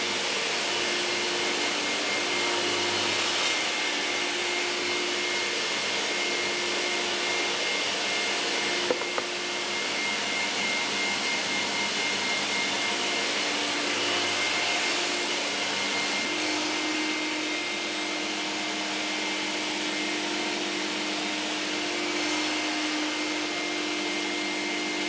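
A power tool cuts wooden tenons for a shoe rack, the workpiece run against a stop; a steady loud whirring drone holds for the whole stretch, with slight swells and one brief knock partway, no talk.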